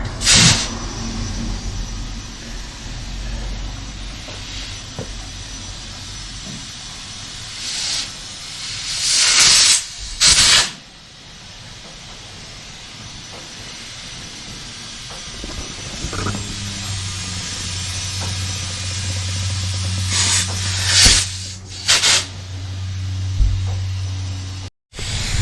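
Air hose filling a Jeep tire at the valve stem, front wheel: a continuous hiss of rushing air with a couple of louder bursts and brief cutoffs, plus a low droning hum in the latter half.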